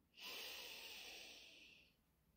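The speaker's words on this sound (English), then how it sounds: "Breathe in and breathe out." A single slow, airy breath drawn in and let out during a guided meditation, close and soft, fading away over about two seconds with no talking.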